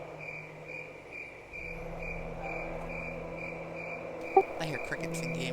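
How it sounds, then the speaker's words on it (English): Steady, rhythmic cricket chirping from a Halloween video game scene, a continuous pulsing trill over a low ambient hum with a faint voice underneath and a brief click near the end. "I hear crickets in game."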